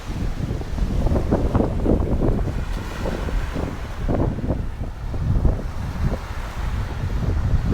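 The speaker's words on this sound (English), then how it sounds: "And there's the ocean." Ocean surf and steady wind on the beach at Akumal, Mexico, continuous roaring wash of waves with gusty wind noise buffeting the microphone throughout.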